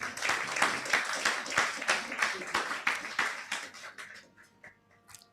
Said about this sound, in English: So do that clapping again, please.